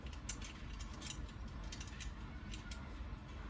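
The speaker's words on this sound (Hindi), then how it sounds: "सबसे पहले नंबर जो है सभी नट बोल्ट को यहाँ पे अटैच कर देना है" Nuts and bolts are fastened onto a dish TV antenna, with repeated small metallic ticks and ratchet-like clicks scattered over a steady, fairly faint background noise.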